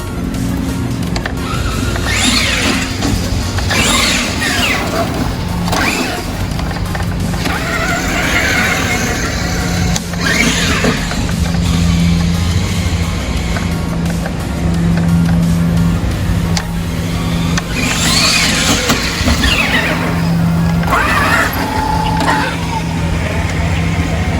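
A Traxxas X-Maxx 8S RC truck fitted with a wheelie bar drives outdoors, its electric motor whining in repeated loud bursts over constant rumbling tire and gravel noise.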